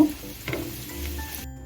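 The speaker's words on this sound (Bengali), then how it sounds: "পেঁয়াজ রসুন কাঁচা লঙ্কাটা ভেজে নিচ্ছি" Onion, garlic and green chili fry in oil in a pan, giving a close, steady sizzle with a brief stir, no talking.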